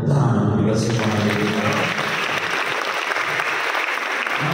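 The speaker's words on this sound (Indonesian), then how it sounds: "Tepuk tangan bagi semuanya." Audience applause at a leadership seminar at an Islamic boarding school, beginning under the tail of a loud voice and then settling into a sustained, full crowd of clapping hands.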